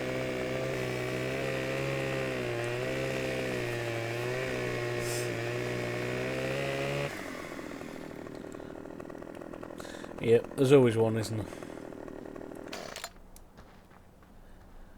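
Chainsaw felling trees in the Farming Simulator 2015 video game on the Sosnovka map: a steady, buzzing two-stroke drone runs loud for about seven seconds, then cuts out, leaving quieter clatter and a voice commenting.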